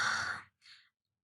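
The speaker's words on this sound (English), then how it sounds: "Everybody, let's take a big breath." A single deep breath drawn in and let out through the mouth, soft and close, followed by a brief airy exhale after a short pause, with no talking.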